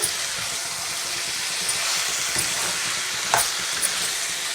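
Chicken curry with turmeric is stirred in a hot pan: a loud, dense frying hiss with a few sharp scraping knocks of the spoon against the pan.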